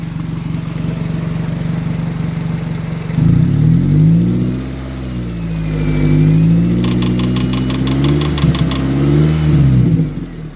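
A Mazda Protege engine idles loudly, then rises and falls through several throttle revs, with a quick series of clicking ticks near the end.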